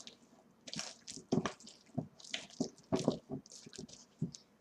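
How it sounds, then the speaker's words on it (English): Mashed banana stirred into banana bread batter with a spoon, giving soft, wet squishing and squelching strokes in an uneven rhythm, close up and quiet with no voices. "Now I'm going to add in the banana And just give it a quick stir."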